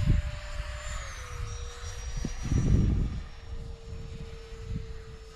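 A 64mm FMS electric ducted fan RC jet whooshes past overhead with a steady, rising and falling turbine whine, moderately distant, over gusty outdoor wind noise.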